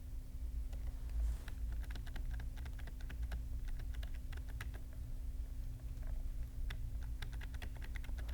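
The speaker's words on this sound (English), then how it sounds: "here I am pressing arrow keys to navigate" Arrow keys tapped on a computer keyboard while navigating a web-based map in Google Earth, giving irregular soft clicks of scattered single presses over a steady low hum.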